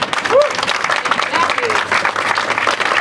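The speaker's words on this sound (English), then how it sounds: "I think that deserves a round of applause." Audience at a Baltimore City press conference claps in a loud round of applause that carries on for several seconds, with a voice or two briefly mixed in.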